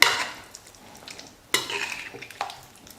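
A spoon scrapes and clatters against a pan in a few distinct strokes while stirring masala for a non-veg curry, with soft sizzling in between; no voices.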